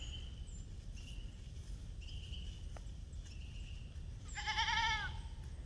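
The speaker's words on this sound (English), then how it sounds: "That Billy goat's the one over there talking." A black and white billy goat on a rotationally grazed pasture lets out one wavering bleat near the end, at moderate distance, over a quiet background of crickets and faint outdoor hum.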